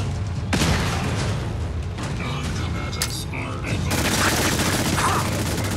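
Grenades explode during combat in the video game Fallout 4. Several loud broadband blasts land at uneven intervals over a dense, rumbling background of gunfire and clatter.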